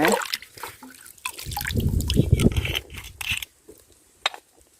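Mineral sports drink used as plant fertilizer being stirred into ten liters of water: close sloshing and splashing with scattered drips and trickles, then quieter dribbles.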